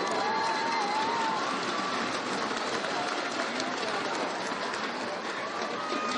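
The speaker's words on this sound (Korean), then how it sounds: "홈관중들이 응원을 보내고 있는 반면" Home supporters cheering at a K3 League football match between Chuncheon and Icheon, a dense, distant crowd roar that stays steady, with faint whistle-like tones and voices blended into the wash.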